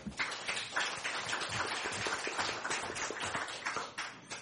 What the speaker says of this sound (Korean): 이의 없으시면 박수로 통과시켰으면 좋겠습니다